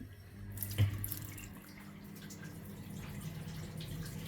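Water runs steadily from an opened household tap fed by a combi boiler, a continuous rushing flow that starts with a brief splash and stays fairly close and even.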